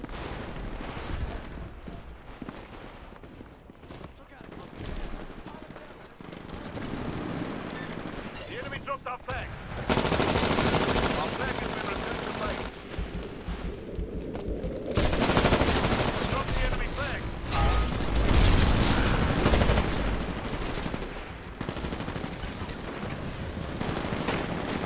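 Dense gunfire in a multiplayer shooter video game, sustained bursts and fusillades swelling louder at intervals across the whole stretch, with a player talking over it.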